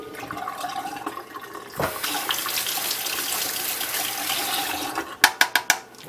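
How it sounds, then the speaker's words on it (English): Tap water rushes steadily into a sink while a paint brush is rinsed out during a cabinet restoration, a loud continuous splash followed by a few sharp knocks and taps near the end. "I'm going to wash my brush off because I want to reuse it again."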